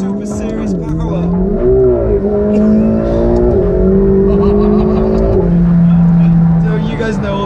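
A McLaren 720S Spider engine hums loudly and close, its pitch rising and settling in a couple of mild revs, with a person talking over it.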